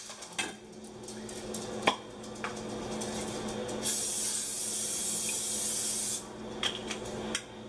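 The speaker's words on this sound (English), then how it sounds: "I'm going to go ahead and spray the second side with the canola oil" A continuous hiss of canola oil cooking spray for about two seconds, loud and close, with light clinks and scrapes of an air fryer pan before and after.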